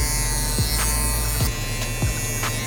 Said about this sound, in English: With my number 2 guard, using my Stylecraft Instinct Clipper, we're just gonna go in and just kind of clean everything up